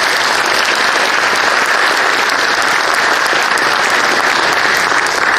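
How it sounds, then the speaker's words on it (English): Loud, dense applause fills a hall at a nursing graduation pinning ceremony, an unbroken wall of clapping from the gathered audience lasting the whole stretch with no talk over it. "So I want to give everybody a huge round of applause."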